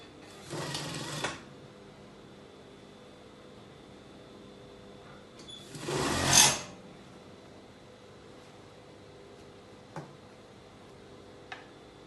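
A sewing machine stitching a half-inch seam around a dress sleeve runs in two short bursts, the second louder and closer, with a few faint clicks afterward in a quiet room.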